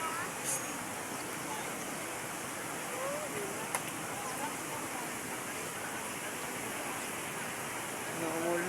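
Steady downpour of rain making a broad, unbroken roaring hiss throughout, close and loud, with occasional faint background voices mixed in.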